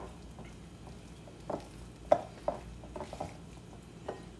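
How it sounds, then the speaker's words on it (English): Rocky road brownie batter is folded and mixed in a bowl. Soft, wet, squelchy strokes and occasional light scrapes against the bowl come in an uneven rhythm, quiet and close. "Folding in, getting the batter from the bottom."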